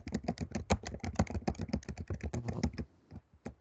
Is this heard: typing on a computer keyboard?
yes